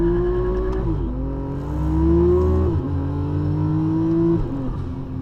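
Car with a DCT transmission accelerating hard, the engine note climbing steadily and dropping briefly at each quick gear shift, loud and close with no talk.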